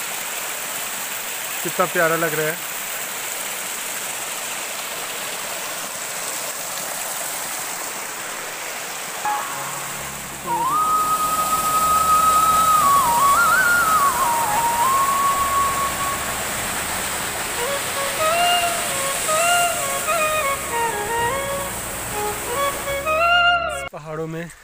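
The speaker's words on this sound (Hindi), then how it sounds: "पहाड़ों में बारिश जैसे होती है तो खाले गदेरे आ जाते हैं" Mountain streams swollen by monsoon rain rush in a steady, loud wash of water in hill country, a constant broadband roar. Someone talks over it throughout.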